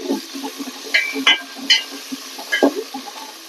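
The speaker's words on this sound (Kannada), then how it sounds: "ಇವಾಗ ಆಲೂಗಡ್ಡೆ ಹಾಕೊಂಡು ಫ್ರೈ ಮಾಡ್ಕೊಳ್ಳೋಣ." Potatoes frying in oil in a pan, with a soft low sizzle and scattered light clinks of stirring, close up and with no talk.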